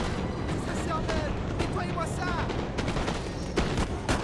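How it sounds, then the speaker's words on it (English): Massed musket volleys in the Napoleon Total War video game crackle as a dense, continuous rolling roar of overlapping shots, with someone talking over it throughout. "they're firing right over my militia"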